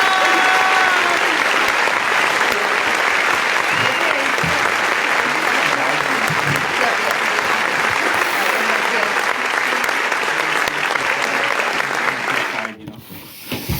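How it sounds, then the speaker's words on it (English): A studio audience in a fan show studio claps in a long, dense, sustained round of applause that stops abruptly near the end. "I'm sure you're gonna clap,"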